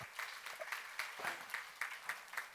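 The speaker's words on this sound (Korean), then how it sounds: "박수 한번 치세요" A church congregation at a seminary sermon claps together, faint, steady applause with a regular pulse of distinct claps, heard alone.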